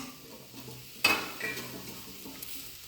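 Sweet potato masala is stirred in a pan: one sharp scrape of a spoon against the metal, then soft, faint sizzling and a few quieter stirring sounds.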